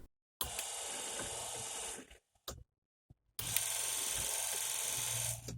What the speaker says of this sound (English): Just a couple of shots of the wiper system in action.